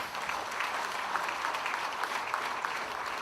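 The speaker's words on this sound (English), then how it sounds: "please give them a round of applause." An audience claps in steady, even applause at an anniversary celebration, a dense crowd sound that holds throughout without a break.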